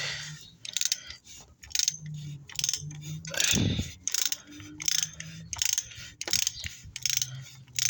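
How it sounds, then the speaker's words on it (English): Repeated ratchet clicking from a 24mm socket loosening the oil filter housing on a Kia Sportage, in short bursts of close, crisp clicks with brief pauses and a louder clunk midway. "Okay, I'm loosening my oil housing."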